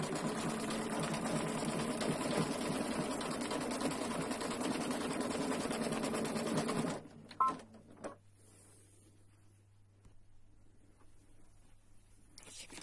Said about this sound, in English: And we sew the last bit.